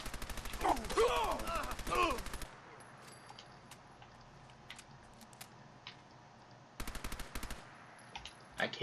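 Rapid submachine gun bursts in Fallout 4, a dense rattling volley at the start, then scattered distant shots and faint clicks before two more short bursts near the end.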